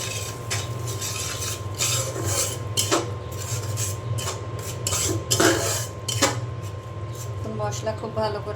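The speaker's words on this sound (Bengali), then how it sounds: "মশলা খুব ভালো করে আমি কষিয়ে নেব।" A spoon scrapes and rubs salted spices around a pan as they are sautéed for a curry of tangra fish with plantain and pumpkin. The strokes are repeated, close and gritty, with a voice talking underneath.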